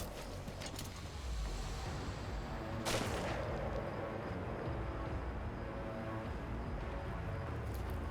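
Gunfire from enemy snipers in the video game Metal Gear Solid V: The Phantom Pain, with one sharp, loud crack standing out over a dense, rumbling battle soundscape, and no talking.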